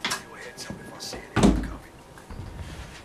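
Drawers being pulled open in the London Heist virtual reality game: a few light slides and clunks, then one louder thump midway. The sounds are close and alone.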